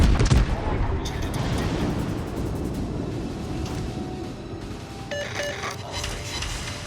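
Naval guns fire in World of Warships: a heavy boom opens, then a rumbling roar of distant shell fire and fusillade continues, with someone talking over part of it.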